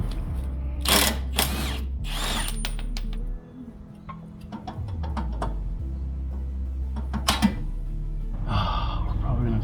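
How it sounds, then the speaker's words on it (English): A power tool spins a 32mm socket on the drive axle nut of a 2006 Subaru WRX AWD, with loud, steady low whirring bursts stopping and restarting, plus tool clicks between, close up. "Using a 32mm socket, I'm going to remove the drive axle nut."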